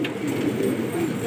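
Pigeons of a Gola breed coo in a low, continuous murmur, close and steady, with a voice talking over them.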